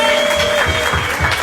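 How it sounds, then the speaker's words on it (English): A crowd at an interview event claps loudly and briefly in a short burst, with cheering voices and a sustained tone mixed in. "One last round of applause for Zulu Man in Japan!"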